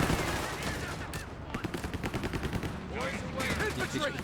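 Bursts of gunfire in Company of Heroes 3 pin down Panzer Grenadiers, with rapid repeated cracks and machine-gun rattles layered amid battlefield noise and a commentator talking throughout.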